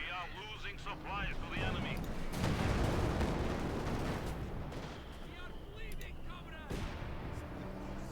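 An artillery barrage in Company of Heroes 2 pounds out a dense run of heavy booms and explosions, loud and continuous, with a commentator talking over the battle.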